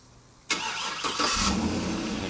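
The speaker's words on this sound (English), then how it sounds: "And it cranks right up with the remote." A 2008 GMC Yukon Denali starts by remote start: a sudden loud crank catches at once, then the engine settles into a steady, close idle with a second surge shortly after.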